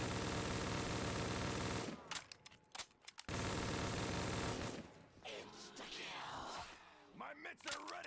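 Rapid automatic weapon fire in Black Ops 3 Custom Zombies, a loud continuous roar of shots that breaks off, returns for another sustained burst, then fades into scattered game noise, with voices talking over it.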